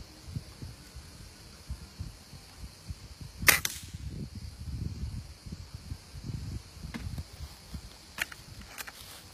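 A Hatsan Beta 65 air rifle fires once, its sharp crack joined by the bottle shattering. The brief loud burst stands out against quiet outdoor background rustle, followed by a few faint ticks.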